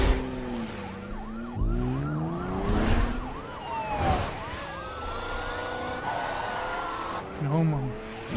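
Police car sirens in the racing video game The Crew wail and sweep up and down in overlapping cycles, loud and close beside revving engines, with someone talking in German now and then.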